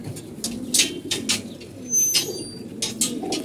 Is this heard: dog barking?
no